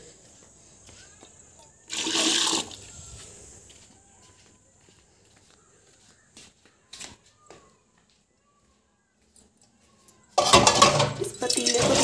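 Water runs and splashes as a cooking pot is washed at home, in two bursts separated by a long quiet stretch with a few light knocks and clinks.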